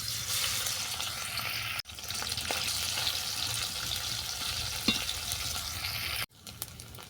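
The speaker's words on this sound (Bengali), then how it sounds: "কড়াইতে সাদা তেল দিয়েছি, ওই সাদা তেলের মধ্যে মাছটাকে ভাজবো।" Fish sizzles loudly in white oil in a wok, a dense continuous hiss close by that breaks off abruptly twice, with small spatters and no talking.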